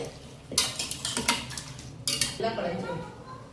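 Tomato kulambu ingredients with spice powder, salt, turmeric and water are stirred inside a metal pressure cooker, giving a few bursts of metallic clanking and scraping from the spoon, separated by short quieter gaps.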